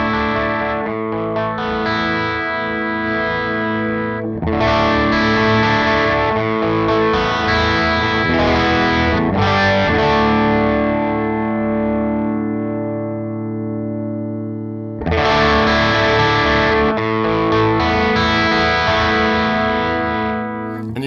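Hot, high-output electric guitar played through an IK Multimedia AXE IO One audio interface, loud and heavily distorted with chorus and reverb, sustained chords ringing in long phrases with a brief pause in the middle.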